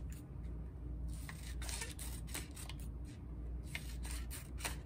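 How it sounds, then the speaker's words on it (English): Scissors snip through paper strips of printed tens, cutting along the middle lines in a quiet room; a steady run of close, crisp blade cuts and rustling paper with no talking. "I'm going to follow on the lines and cut each of my tens apart on the line in the middle."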